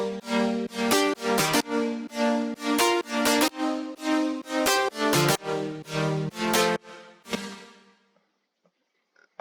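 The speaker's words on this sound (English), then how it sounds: "then the synth chord, which is like this." Bright future house synth chord stabs hit in a steady rhythmic pattern, loud and sustained with rich harmonics, stopping abruptly near the end before a brief silence.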